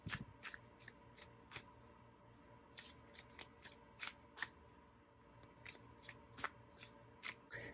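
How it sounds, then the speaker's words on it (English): Smooth, non-glossy, unlaminated tarot cardstock is shuffled by hand in quick riffling bursts, a steady rhythm of soft flicks heard up close and alone. "And it's just great to shuffle with, just to shuffle."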